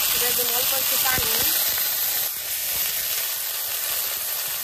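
A splash of water hits onion, garlic and green chili frying in hot oil, setting off a loud, continuous hiss of steam and sizzle that holds for several seconds.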